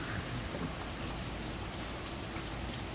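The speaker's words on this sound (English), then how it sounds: "It just started raining now." Steady rain falls across the whole stretch in Cantonment, a dense even hiss of drops on surfaces with no voices and no break.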